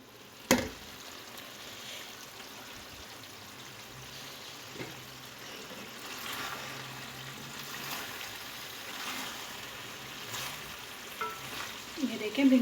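Okra cooks covered over low heat in a pan with a soft, continuous sizzle, broken by occasional clinks and scrapes of a spoon stirring.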